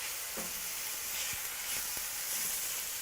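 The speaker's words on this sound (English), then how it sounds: "They're getting nice and sauteed. My skillet is super hot." Onions and mushrooms sauté in a very hot skillet, giving a steady, even sizzle with a few soft clicks of stirring, and no voices.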